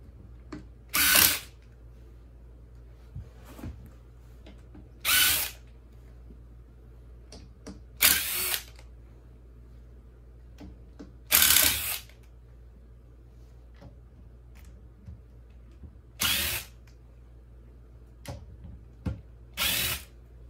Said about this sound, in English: it's a little bit faster to come in with a drill with the same bit